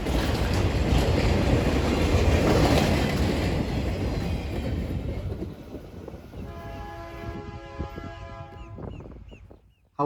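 A U.S. Sugar cane train led by locomotive 506 rolls out toward Moore Haven with a cut of empty cars. A loud, steady rumble of wheels on rails slowly fades, and a horn-like tone sounds near the end.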